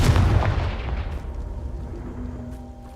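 A Confringo fire spell from the video game Hogwarts Legacy explodes with a loud booming blast that rolls off into a long, fading rumbling tail.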